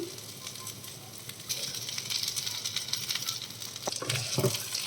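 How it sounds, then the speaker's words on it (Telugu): Okra and onion curry frying in a pan on high heat as masala powder goes in, with a steady close sizzle that swells partway through and a few clinks of a utensil near the end. "హైలో పెట్టుకొని ఫ్రై చేసుకోవాలి ఇప్పుడు పౌడర్ వేసేసుకుందాం"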